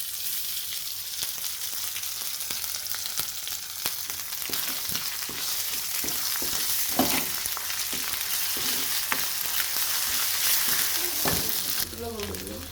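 Browned onions fry with garlic, cumin, ginger and garam masala pastes while being stirred, a dense close sizzle broken by repeated spoon knocks and scrapes, with a brief faint voice near the end.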